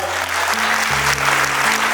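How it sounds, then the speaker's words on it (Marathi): Audience clapping hard for a guest at a Constitution Day celebration in Pune, a dense, loud, continuous wash of applause from a crowd in a hall. "वाबळे साहेबांसाठी जोरदार टाळ्या वाजवा"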